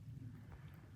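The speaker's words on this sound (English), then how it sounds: "It is raining" Rain falls on the open summit of Mount Cube in New Hampshire, a dense continuous rumbling wash mixed with wind, heard alone.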